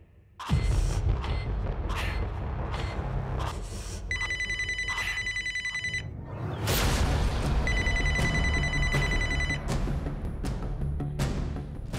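A telephone rings in two bursts of electronic trilling amid a loud, busy background of thuds and noise.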